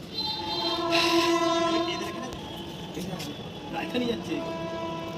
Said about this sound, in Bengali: রাজধানী এক্সপ্রেস যাচ্ছে